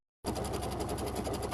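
After a moment of silence, a sewing machine starts abruptly and hums steadily at close range while stitching a quarter-inch seam in quilted bathmat fabric.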